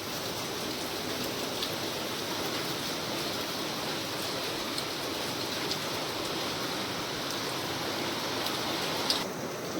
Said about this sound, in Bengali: আর এই বৃষ্টির আওয়াজ শুনি